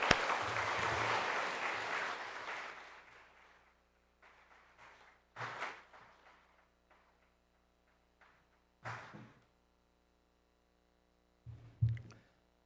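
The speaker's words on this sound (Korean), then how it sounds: "우리 나오실 때에 큰 박수로 환영해 주시기를 부탁드립니다." A church congregation at an all-member retreat applauds to welcome a guest speaker. The clapping is loud and full at first, then fades within a few seconds, followed by a few scattered, isolated claps.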